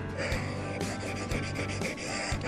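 A Japanese carpenter's hatchet blade is rubbed back and forth on a natural water stone, giving a rhythmic, close, moderately quiet gritty rasp with strokes repeating about every half second.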